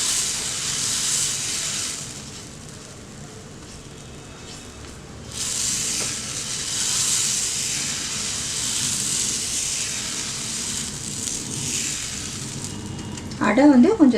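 Adai, a thick wheat and lentil crepe batter, is poured onto a hot pan in a home kitchen and sizzles with a steady hiss. The hiss swells partway through and ends with a brief clatter.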